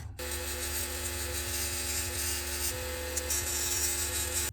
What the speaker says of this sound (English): I use my miniature belt sander, and I'll just very gently